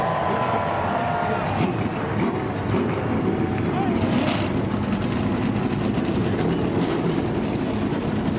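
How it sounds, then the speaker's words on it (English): Loud NASCAR stock car engines roar continuously at Las Vegas on race day, a heavy rumbling drone from several cars idling and revving, with faint crowd noise and wind underneath. "The engines have fired."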